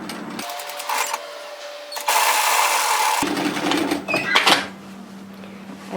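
A domestic sewing machine stitches a dress seam in bursts, with a steady close whirring run in the middle and quieter stops and handling noises around it.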